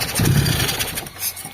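A Mitsubishi Lancer with a carburetor under general overhaul cranks and catches, a short loud burst of engine noise that settles into a rougher, fading idle within about a second and a half.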